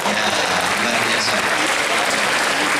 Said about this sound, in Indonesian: tepuk tangan untuk SMK